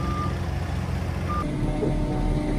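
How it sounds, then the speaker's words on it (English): A cherry picker shifts position, its reversing alarm giving two separate high beeps over a low, steady engine rumble nearby. "Wait for the cherry picker to move."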